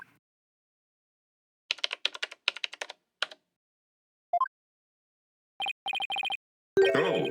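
Bursts of computer keyboard typing in the Ace Attorney game: rapid clustered keystrokes in short runs separated by silence, followed by a brief rising blip and a few electronic beeps, ending in a louder chime.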